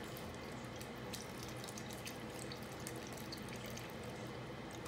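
Water pours steadily into a pot of chicken stock, a continuous splashing trickle at moderate distance with no talk.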